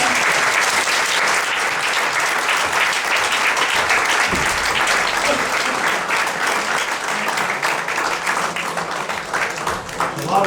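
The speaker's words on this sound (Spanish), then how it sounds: "Les vamos a dar un aplauso" Loud, sustained applause from an audience at a Cantabria gathering on tourism demand, a dense continuous clapping that holds steady and eases slightly toward the end.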